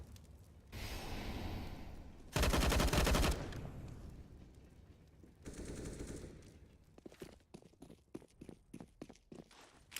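Rifle and pistol gunfire during a Counter-Strike match on the Train map: scattered shots and footsteps, then a loud sustained automatic burst, a second volley, and a rapid string of sharp individual shots, with no talk.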